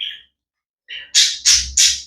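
A pet parrot gives a short chirp, then after a pause breaks into three loud, harsh squawks in quick succession, close and sharp, with no talking.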